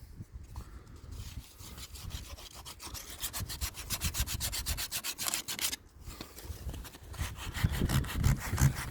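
A wooden boat hull is sanded by hand, close rhythmic rasping strokes repeating steadily and growing rougher toward the end, with no talking.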